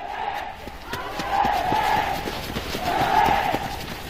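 New KATUSA army recruits roar a sustained collective battle cry on command, a loud group shout swelling in two waves over several seconds with some rhythmic thumping beneath.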